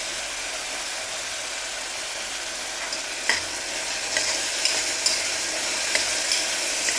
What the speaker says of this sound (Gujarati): ડુંગળી લાલ થાય ત્યાં સુધી સાતળશું.